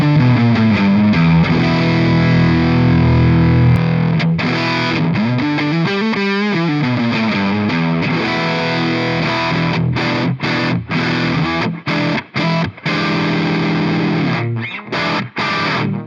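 Distorted electric guitar on the neck pickup played through an ENGL E650 amp model preset with a mastering section engaged, loud and continuous riffing with sustained chords and a few short choppy stops near the end, no talking.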